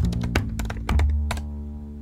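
Quick keystrokes clatter on a computer keyboard, a short burst of sharp taps close up, ending in a single heavier key press and a fading hum.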